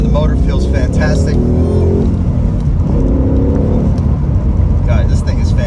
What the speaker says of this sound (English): Let's take this 2016 Mustang GT out for a fun little drive.